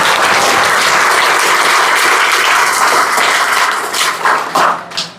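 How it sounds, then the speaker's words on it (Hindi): Loud, dense applause from an audience cheering a CBSE class 10 student topper, continuous clapping for several seconds before thinning out and tapering off at the end. "ताली ताली ताली।"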